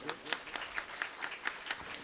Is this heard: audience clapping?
yes